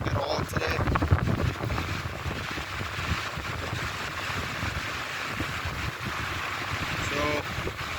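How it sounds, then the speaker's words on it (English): Gusty wind buffets an outdoor fishing spot in Papillion, Nebraska, producing a constant loud rumbling roar of wind against the microphone, with no clear voices. "pretty much my goal is to fight through this wind crap."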